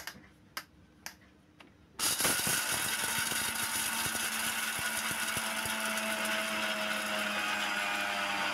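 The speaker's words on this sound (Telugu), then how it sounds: "అది కూడా వేసి కచ్చాపచ్చాగా మిక్సీ పట్టుకుందామండి" A kitchen mixer grinder coarsely grinds peanuts for poha laddu, switching on abruptly after a few light taps and then running loud and steady with a busy rattling whir to the end.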